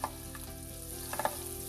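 Butter sizzles and fries in a heated pan, a steady close hiss with a few brief crackles and pops and no talk.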